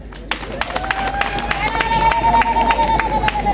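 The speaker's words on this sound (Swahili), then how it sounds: "Makofi jamani." A crowd claps in scattered, uneven bursts alongside a steady tone and some voices, the clapping building slightly toward the end.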